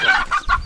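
Chickens cluck in a quick series of loud, close, nasal calls, heard over a steady background of farmyard noise.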